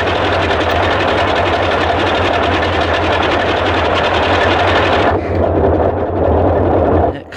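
Boeing 247 radial engine in Microsoft Flight Simulator, a loud steady mechanical drone with a rattling, sewing-machine-like chatter that holds constant, then shifts to a duller tone partway through before stopping abruptly.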